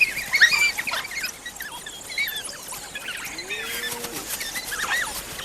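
African wild dogs giving high, bird-like chirps and short squeaky calls while hunting, with several scattered chirps over a faint outdoor background, moderately near.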